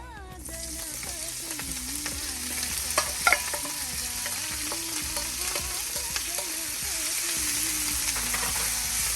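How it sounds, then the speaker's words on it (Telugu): Gongura leaves fry in oil in a pan, a steady close sizzle with repeated scraping stirs of a spatula against the metal, a couple of sharper knocks partway through, and no talking. "మరికొద్దిగా ఆయిల్ వేసుకొని గోంగూర వేయించేసుకున్నానండి"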